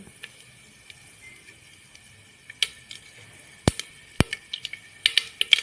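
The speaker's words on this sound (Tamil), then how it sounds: "கடுகு நல்லா பொரிஞ்சு வருது" Mustard seeds spluttering in hot peanut oil in a pan, a scatter of sharp pops and crackles that speed up toward the end over a faint background hiss.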